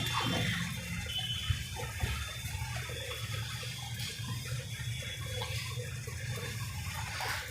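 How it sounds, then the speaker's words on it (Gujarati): Water poured little by little into flour while kneading balushahi dough, a soft continuous trickle and splash over low steady background hum, with no one speaking. "હવે એનો આપણે લોટ બાંધી લઈશું થોડું થોડું પાણી નાખીએ"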